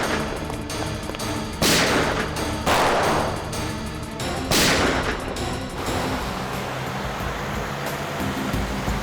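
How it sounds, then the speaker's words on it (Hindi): Gunfire in a roadside shootout crackles through a dense, noisy scene, with several loud booming shots standing out over a constant wash of background noise. "एक काम करो, मुझे कवर फायर दो,"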